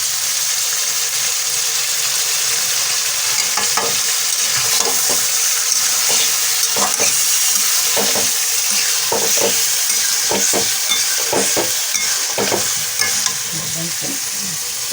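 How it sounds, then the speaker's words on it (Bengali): Malabar spinach being stirred as it fries in a pan for a vegetarian dish with jackfruit seeds and pumpkin, with a steady sizzle and repeated scraping, clattering strokes of the spoon close by, and no talking. "এই যে আমি পুঁই শাকগুলো দিয়ে দিলাম, ধুয়ে এখন আমি একটু নেড়ে চেড়ে ঢাকনা দিয়ে দেবো"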